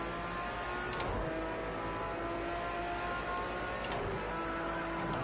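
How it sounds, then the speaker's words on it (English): A racing car's gearbox whines under a steady engine drone during a hot lap, with a constant mechanical tonal hum and two brief clicking shifts or ticks, loud and close with no talking. "the gear in itself is making a lot of noise"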